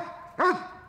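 A single short, close dog bark, one sharp bow-wow burst standing alone against a quiet background.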